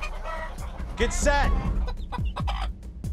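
Chickens cluck and squawk close by inside a barn, a busy run of short calls under a person speaking briefly.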